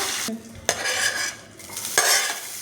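Cumin seeds and curry leaves hit hot ghee and oil for a sambar kitchadi, giving a loud, close crackling sizzle broken by a couple of sharp stirring scrapes against the pan.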